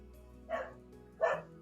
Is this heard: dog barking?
yes